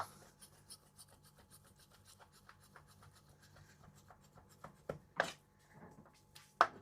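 Sharp knife slicing plain raw chicken on a cutting board for homemade Arabic shawarma, giving soft repeated rasping strokes through the flesh and a few louder board knocks near the end, close and fairly quiet.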